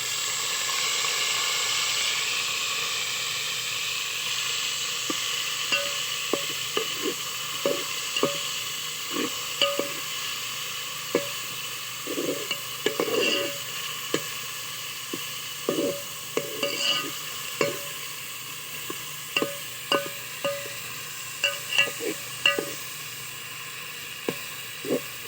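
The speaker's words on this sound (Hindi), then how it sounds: "अभी हम इसमें टमाटर का पेस्ट डालेंगे।" Tomato paste sizzles and fries in a pan for chicken pulao while a spoon stirs it, with steady hissing and repeated sharp scraping clicks and knocks throughout, close and fairly loud, no talking.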